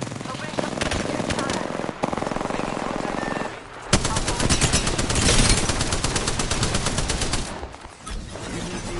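Heavy automatic gunfire in Apex Legends rattles loud and close in long sustained bursts, pausing briefly before resuming, with voices talking over the shooting.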